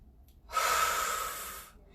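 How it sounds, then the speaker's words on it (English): A single deep yoga breath, a breathy rush about a second long that swells quickly and fades, heard close with no talking. "we begin with a breath."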